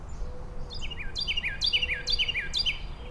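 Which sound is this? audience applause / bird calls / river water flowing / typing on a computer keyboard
bird calls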